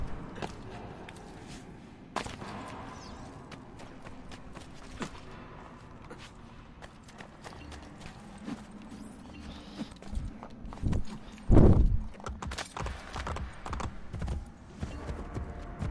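Hoofbeats of a horse in Assassin's Creed Brotherhood build through a cluttered game soundscape, with a loud, close thudding burst near the end amid creaks and ambient noise.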